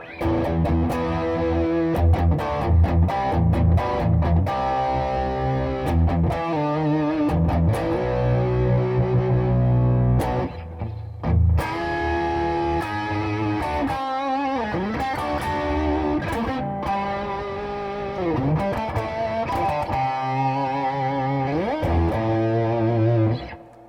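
Heavily distorted electric guitar on the bridge pickup plays loud chords and riffs continuously, with a gritty, sustained tone and brief pauses between phrases.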